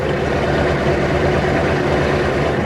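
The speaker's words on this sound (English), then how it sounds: "You're gonna hear this exhaust." A 1983 Ford F250 with a 6.9 diesel idles through an exhaust that is too small, a steady, dense low rumble and rush of air, close and continuous with no voices.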